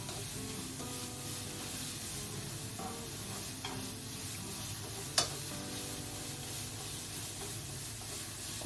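Carrots stir-fry in a pan with a soft, steady sizzle and hiss, broken by occasional utensil taps and one sharp clack partway through.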